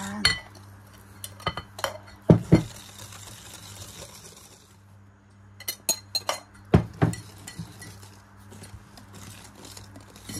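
Red velvet cupcake batter being mixed in a bowl, dry ingredients folded into wet: bursts of utensil clinking and scraping against the bowl, close, with a quiet pause between clusters.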